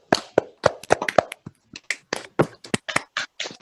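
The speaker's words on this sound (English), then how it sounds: "let's unmute yourself and give some applause, okay?" Scattered handclaps come from a small online audience, uneven taps and claps spread over a few seconds, fairly quiet and without voices.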